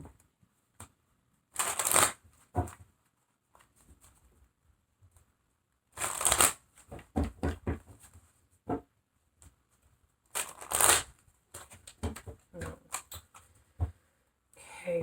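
Tarot cards being shuffled in three distinct riffling bursts, each crisp and close, separated by quiet pauses, with softer handling taps and rustles between them.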